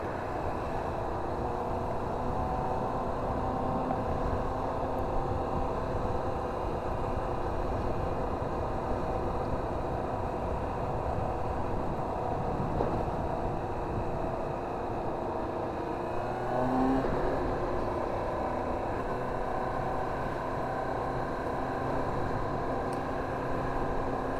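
A Yamaha R1 motorcycle cruises along, its engine a steady, fairly faint drone that holds evenly throughout with only a slight change in tone late on.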